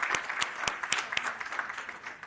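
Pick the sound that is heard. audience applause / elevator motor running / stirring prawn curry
audience applause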